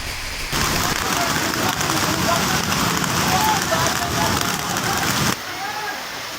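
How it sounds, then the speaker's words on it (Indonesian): Heavy rain and gusting wind from a storm in Jakarta pour down as a loud, dense, steady roar of water hitting surfaces, easing slightly near the end; a voice speaks over it. "Jakarta, hujan angin, Jakarta, hujan badai nih ya Allah"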